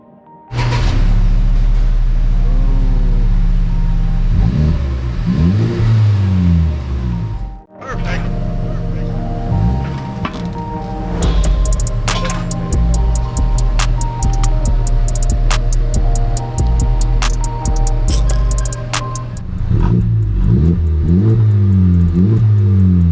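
2021 Honda Civic Type R (FK8) turbo engine with a muffler-delete exhaust, loud revving rising and falling, a brief drop, then sustained high revs with crackles before settling back.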